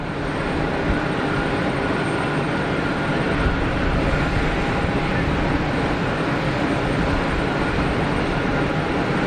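A KLM Embraer airliner at Geneva Airport, a loud, steady broadband engine roar that holds constant throughout with no breaks.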